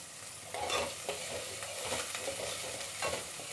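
Onion, curry leaves and garlic sautéing in hot oil with popped mustard seeds for sambar, a close crackling sizzle with rhythmic scraping as the pan is stirred, no talking.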